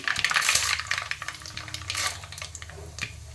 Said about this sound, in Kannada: ಈಗ ಸಾಸಿವೆ ಚಟಪಟ ಅಂತ ಇದೆ, ಕಡಲೆಬೇಳೆ ಹಾಕ್ತೀನಿ.